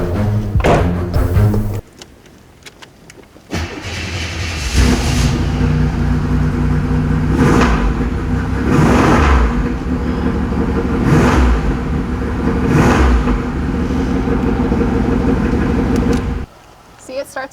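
A car engine cranks and catches in extremely cold weather after a couple of short starter bursts, then settles into a steady, loud idle with rhythmic revving swells, close by.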